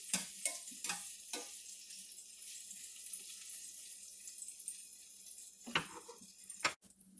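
Onions sizzle gently in a pan, softening until translucent without browning, a steady soft crackle broken by a few sharp clanks and scrapes of stirring.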